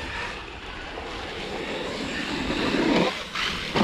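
A radio-controlled short course car driven with a Radiomaster MT12 transmitter, a steady broad motor and tire whine, fairly loud and continuous, with no talk.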